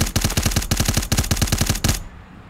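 Rapid automatic gunfire from a match in a competitive shooter game, with about twenty loud, evenly spaced shots in a sustained burst that stops abruptly, leaving near silence.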